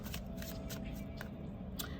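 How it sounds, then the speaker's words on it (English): A deck of tarot cards shuffled close up, giving a continuous soft riffling and flicking patter with several sharper snaps, quiet and without talk. "and shuffle my deck"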